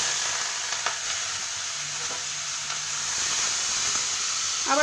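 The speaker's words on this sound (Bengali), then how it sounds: "আমি চিংড়ি মাছগুলোকে ভেজে নেব।" Prawns fry in hot oil in a wok for a prawn malai curry, giving a close and steady sizzle. Soft stirring clicks sound now and then, and no one talks.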